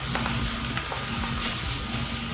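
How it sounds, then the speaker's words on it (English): Greens sauté with garlic and fermented salted beans in a hot pan, giving a loud, steady sizzle with occasional crackles and stirring scrapes, close by and with no talk. "Put that in, saute that with the garlic."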